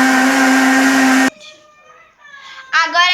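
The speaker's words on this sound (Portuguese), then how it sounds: "E esse é o barulho do liquidificador." A kitchen blender making juice whirs with a loud, steady high-pitched motor drone, then stops suddenly; afterward the motor winds down with fading tones and a short burst of sound returns at the end.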